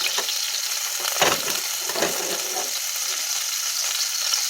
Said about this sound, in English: So we're gonna go ahead and start these little turkey meatballs that I prepped, because we gotta cook these in batches.